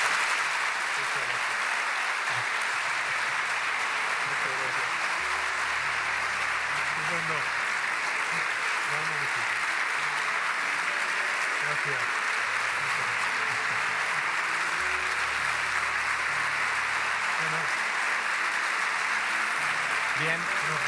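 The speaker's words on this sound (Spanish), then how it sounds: "te damos este fuerte aplauso" Audience at a conference talk on relics and Spanish history giving a strong, sustained round of applause, dense clapping throughout at moderate level with faint murmurs and voices underneath.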